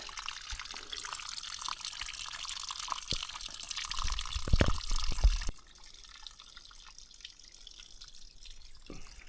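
Water pours from a pipe into a bag on an Appalachian Trail hike, a close trickle and splash that grows heavier for a few seconds, then stops abruptly, leaving faint dripping and quiet background.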